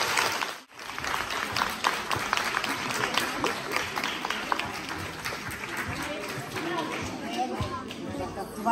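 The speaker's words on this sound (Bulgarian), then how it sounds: "Моля за вашите аплодисменти за директора на 156-то училище" A school audience applauds for the director of School 156, a dense, lively clatter of many hands after a short pause, with chatter and shuffling mixed in.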